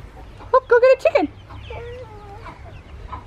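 Chickens in Kenya clucking loudly close by, a quick run of sharp, rising squawks, then softer trailing clucks over a low rumble.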